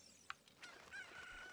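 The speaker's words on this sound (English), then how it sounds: "Just grab the chicken." Chicken in the Zelda Ocarina of Time video game gives a short sharp cluck, then a thin drawn-out squawking call, faint game sounds.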